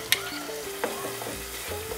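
Wine and cream for chicken liver pâté reduce in a pan, with a continuous close sizzle and a few brief stirring clinks and scrapes, no voices.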